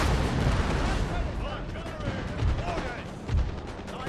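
Cannon artillery fire in a video game battle: repeated booming shots and deep thuds rise out of a constant, dense roar of combat, with a couple of heavier blasts standing out midway and near the end.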